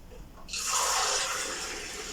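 A cup of water poured into banana bread batter with nuts, a sudden close splashing pour that starts partway in and keeps running steadily to the end.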